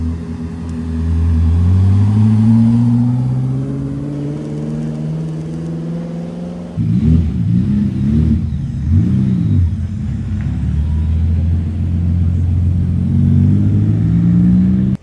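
A Koenigsegg supercar at Monterey Car Week 2025 revs hard and close, its engine note climbing smoothly, breaking off, then surging again in a loud, throaty rise.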